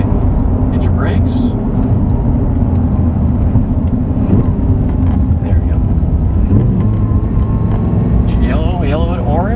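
An Audi R8 sports car accelerates hard on a track, its engine roaring loud and continuous from inside the cabin while an instructor and driver talk over it.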